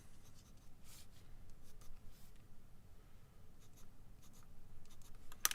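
Soft pencil shading strokes on paper while filling in the last area of a misty mountain landscape drawing, a quiet, steady scratchy rubbing with occasional lighter flicks, close and alone without talk.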